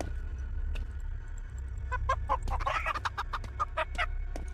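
Chickens in a video game cluck in a quick series of short, bright calls over a low background hum, fairly close and without speech.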